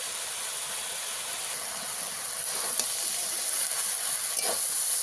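Spices and prawns fry in a pan with a steady, close hiss that grows slightly louder over the clip, broken by a few faint clicks, no voices.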